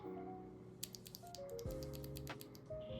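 Aula F75 mechanical keyboard keys with linear yellow switches clack in a quick, irregular typing burst, close and fairly quiet, over a faint background tone.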